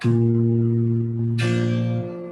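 Steady sustained guitar notes ringing together on the open first three strings, then a brighter plucked note joins partway through before the lower tones fade out near the end.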